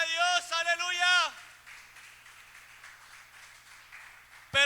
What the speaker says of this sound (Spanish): A su nombre, dele un fuerte aplauso al Señor